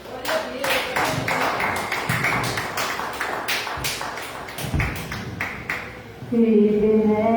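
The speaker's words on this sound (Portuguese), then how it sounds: "as palmas louvam o Senhor nesta noite" A congregation claps in praise during an Assembly of God evening worship service, sharp rhythmic hand claps for several seconds before singing voices and music take over.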